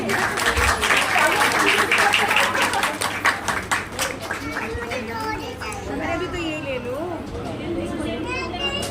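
An audience at a Jain temple event claps over a voice on a microphone, a dense burst of applause that thins into scattered clapping while children chatter and play nearby.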